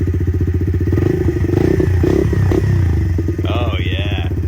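A dirt bike engine idles with a close, loud, throbbing putter, then revs up briefly and settles back to idle, and a voice briefly speaks near the end.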